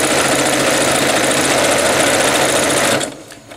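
A sewing machine runs a fast straight stitch around the perimeter of a terry cloth pad core, a loud, close, rapid mechanical chatter that cuts off abruptly near the end.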